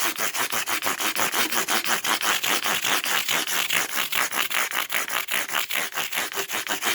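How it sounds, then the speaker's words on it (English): Guitar frets sanded with 600 grit sandpaper, fast, steady back-and-forth strokes, close and loud, continuing without pause. "I start with 600 grit and just take the tool marks out."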